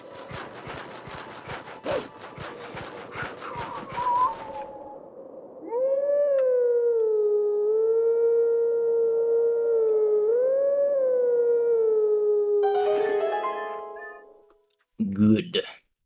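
Wolf Link howls a long, wavering tune at the howling stone in Zelda: Twilight Princess, the sustained melodic howl following a burst of rapid clattering hits and ending with a short sharp sound.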